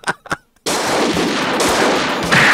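Loud, sustained gunfire from the 1985 film Death Wish 3, a dense unbroken burst of shots lasting a couple of seconds after two brief sounds before it.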